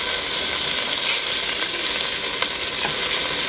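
Rabbit pieces sear in a hot pan, giving a loud, steady, dense sizzle throughout with a few faint clicks and no talking.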